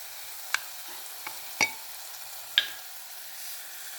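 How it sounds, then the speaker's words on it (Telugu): Horse gram stirred in a pan with a faint low sizzle beneath a few sharp spoon scrapes and clinks, spaced about a second apart. "ఇవి కూడా బాగా ఫ్రై అయిపోయాయి"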